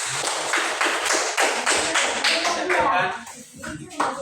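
Classroom audience clapping after a student group finishes its presentation, a dense burst of many hands close by that thins out toward the end, with voices mixed in.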